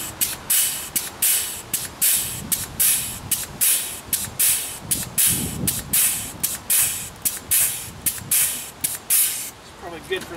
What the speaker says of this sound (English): I'm really having a feeling that the grease gun's going to run out of grease here in a second.